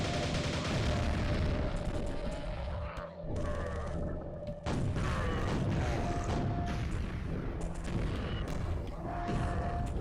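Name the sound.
grenade explosions in the video game Quake 1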